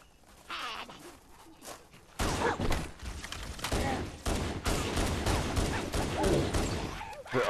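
Pistol gunfire in Halo Anniversary, heard as bursts of sharp shots and explosive blasts that keep coming, loud and close, among other game effects.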